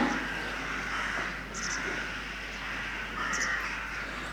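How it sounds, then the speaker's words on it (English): Magpies, jackdaws and rooks caw and chatter from a distance around a farmyard, a steady raucous background of bird calls with a few louder bursts. "you can hear the magpies, jackdaws, and I think a rook or two in the background flying around"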